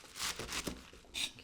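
Knife slicing through Korean chives on a cutting board, three quick crisp rustling cuts in a short sequence, close and fairly quiet.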